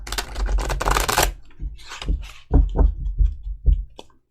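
Tarot cards are shuffled in a fast riffle followed by a series of soft taps and light clicks as the deck is squared and handled, close and fairly loud.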